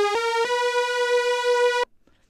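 A thick, bright four-oscillator sawtooth synth note, a Blade Runner patch recreation, with a slightly chorused, beefy quality, rising in two quick steps then holding steady before stopping abruptly.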